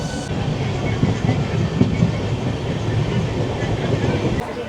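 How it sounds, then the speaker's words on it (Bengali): Local train rushing past alongside the Steel Express from Howrah toward Tatanagar, a loud, close, continuous rumbling roar with rattling wheel clatter that cuts off abruptly near the end. "আর আমাদের পাশ থেকে একটি লোকাল ট্রেন চলে যাচ্ছে।"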